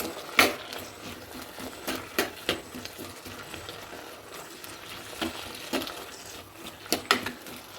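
Tomato masala for egg curry being stirred and fried in a pan: a quiet background sizzle broken by a series of sharp spoon-on-pan scrapes and clinks, close by, with no voices.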